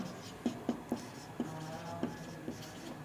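Pen or chalk tapping and scratching while working out a Class 10 trigonometry proof, a sparse series of short, distinct strokes with pauses between them, close and fairly quiet.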